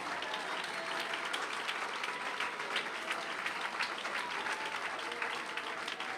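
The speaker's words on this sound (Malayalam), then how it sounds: "കൈയടിക്കുന്ന നേരെ കൈയടിക്ക്." A church congregation claps together during a Christian sermon, producing a dense and steady burst of applause that fills the room without any speech over it.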